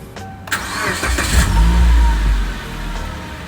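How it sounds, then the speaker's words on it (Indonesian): A 2007 Suzuki Grand Vitara JLX engine is restarted: a brief starter crank catches into a strong, close rev that settles into a steady idle. "Sekarang gua start ulang."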